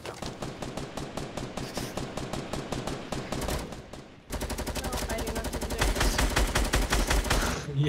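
Rapid automatic gunfire in Fortnite, a steady string of sharp shots that pauses briefly, then resumes as a denser, louder burst, with no talk over it.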